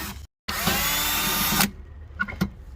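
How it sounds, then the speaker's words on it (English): A power drill whines loudly and steadily for about a second as it bores a hole through a Ford firewall, after a brief start, then stops, followed by a few faint clicks and knocks. "then drill a hole right here"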